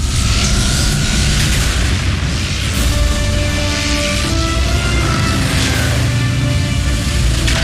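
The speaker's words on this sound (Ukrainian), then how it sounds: "Що це був за вибух?" Loud, dense explosion roar from the animated series Transformers Prime, a sustained booming rumble with crackling bursts that fills the whole stretch without letup.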